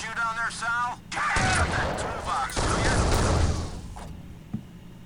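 Bursts of Unreal 2: The Awakening gunfire crackle and boom in two dense volleys, loud and close, with a brief voice at the start and a sharp thump near the end.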